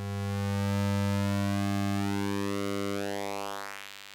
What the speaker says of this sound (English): if we change the pulse width, you can see and hear the pulse width is changing